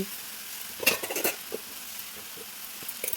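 Tomatoes tipped into a pan of softened cucumber pieces and stirred, for a dried prawn, cucumber and tomato curry: a soft oil sizzle underneath, a brief cluster of clatter and scraping from the spoon, then light, sparse stirring taps.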